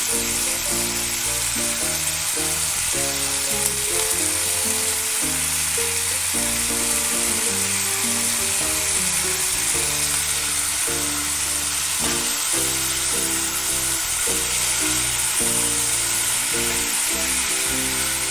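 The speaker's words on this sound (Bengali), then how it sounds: "দিয়ে ভালো করে কষে নেবো সব কিছু।" Drumstick flowers (sajne phool) frying in a pan make a loud, continuous close-up sizzle that stays even throughout, with faint stirring and no voices.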